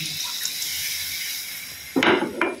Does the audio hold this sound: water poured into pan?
yes